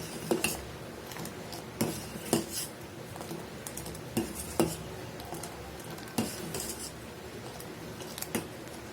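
Repeated scraping and clinking of a spoon stirring urad dal porridge in a pot in irregular strokes, close by, with a faint sizzle underneath and no talking.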